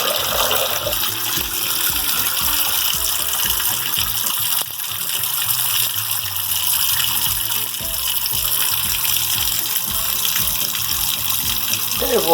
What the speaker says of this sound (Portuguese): Vejo com as torneiras abertas.